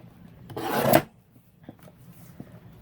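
A trimmer slides through paper card in one quick rasping cut lasting about half a second, followed by faint light handling clicks.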